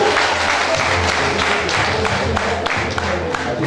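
Wedding guests at a Rwandan marriage request ceremony clapping in sustained, dense applause, loud and close, with a faint murmur of voices underneath.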